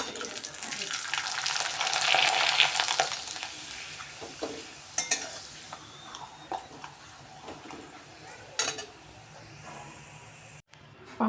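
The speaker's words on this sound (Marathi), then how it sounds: "पापड आता आपण तळून बघणार आहे. मी तेल गरम करण्यासाठी ठेवलेलं आहे कढईमध्ये." Potato sabudana papad frying in hot oil in a kadhai gives a close, bubbling sizzle that swells and fades, with scattered sharp crackles and stirring clinks.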